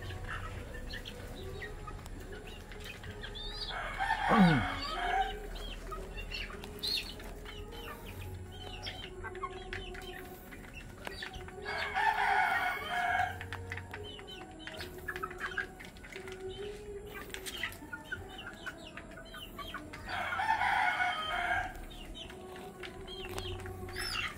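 Gamefowl roosters of roundhead, sweater and gilmore breeds call out in three bursts of crowing and clucking among steady background chirps, with one brief sweeping squawk, all at moderate distance.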